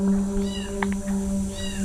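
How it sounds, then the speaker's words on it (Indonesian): A cat gives a few short, wavering meows over a steady low hum, with a brief sharp note in the middle. "suara kucing gitu ya. Ya, ini suaranya."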